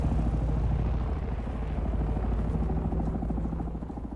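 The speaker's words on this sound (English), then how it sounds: "There's a chopper coming in." Helicopter in the game Dune Awakening, its rotor chop pulsing steadily and fairly loud over a low engine drone, holding close throughout with a slight fade near the end.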